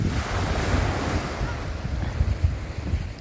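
Steady roar of surf washing onto Barceloneta beach in Barcelona, with gusty wind buffeting the microphone and low rumbling swells throughout.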